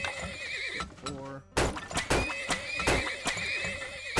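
A horse whinnies in the video game Turmoil with a shaky descending neigh, followed by a run of thudding hoof-like knocks and clatter at a steady beat, with some voice mixed in.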